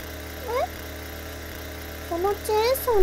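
A chainsaw engine idles steadily in a binaural role-play recording, a low continuous mechanical hum running throughout while a voice speaks over it at the start and end.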